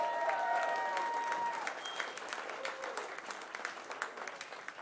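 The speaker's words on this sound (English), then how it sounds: "big round of applause for our Speaker of the House" A crowd at a Beaumont get-out-the-vote campaign rally applauds and cheers for the Speaker of the House, a fairly distant, moderately loud wash of clapping with a whistle-like tone early on.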